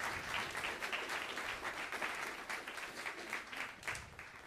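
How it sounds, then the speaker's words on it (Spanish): A church congregation at a Sunday service claps together in a dense, continuous round of applause, loud and close, with a faint voice briefly under it. "Dan un aplauso al Señor"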